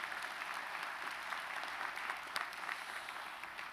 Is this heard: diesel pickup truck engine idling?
no